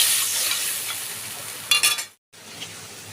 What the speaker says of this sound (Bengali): এবার আমি জল দিয়ে দিলাম, দিয়ে ভালোভাবে মশলাগুলোকে মিশিয়ে নিচ্ছি